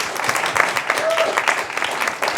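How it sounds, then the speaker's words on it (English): Applause from an audience at an exhibition opening: a dense, continuous patter of many hands clapping, fairly loud and close, with voices mixed in underneath. "Round of applause for her as well."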